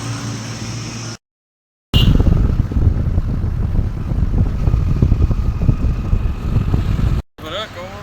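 Two motorcycles carrying four riders set off from Jaito in Punjab on a long road trip, giving a steady, loud rush of engine and wind noise that fills the whole stretch, broken briefly by two short cuts.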